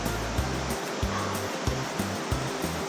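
Water flows steadily beside a campsite at the base of Bynum's Bluff in Linville Gorge, a constant close rushing hiss with regular low thumps underneath.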